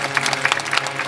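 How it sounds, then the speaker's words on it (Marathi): An audience at a devotional abhang talk claps together, a dense, lively patter of many hands that stays strong and even for a brief moment. "बघा ना काय ताकदीच्या टाळ्या त्यांच्या"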